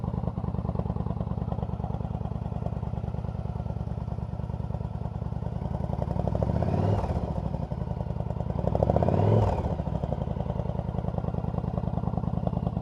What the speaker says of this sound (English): It does have a little bit of a whine when it gets revved.